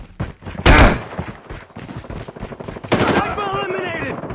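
Rapid assault rifle bursts with an underbarrel attachment crackle in a shooter video game, loud repeated volleys mixed with callouts and other in-game voices.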